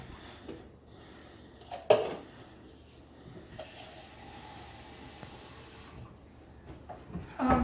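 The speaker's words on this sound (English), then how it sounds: "Now what you'll do is you'll just water it." Water is poured from a cup onto a potted succulent in soil, giving a soft trickling splash under low room hiss, with a couple of sharp knocks from handling the cup.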